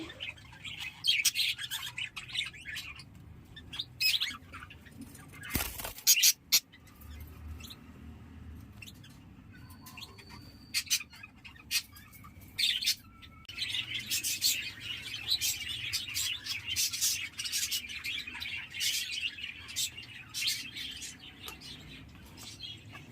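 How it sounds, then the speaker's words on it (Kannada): Recently fledged chicks that have just left the nest and begun feeding themselves chirp in quick, high, overlapping bursts across an outdoor morning scene. The calls are fairly close, continuous and busy, with a few louder knocks and rustles partway through. "ಇವೆಲ್ಲ ಚಿಕ್ಕ ಚಿಕ್ಕ ಮರಿಗಳಿನ್ನೂ next out ಆಗಿರೋದಷ್ಟೇ self feeding start ಮಾಡಿದೆ"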